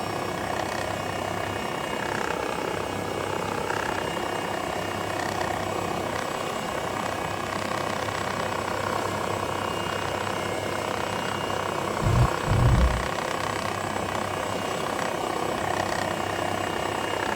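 An MD902 helicopter in the X-Plane 12 game lifts off, its turbine whine and rotor drone steady and loud throughout, with a brief low thump near the end.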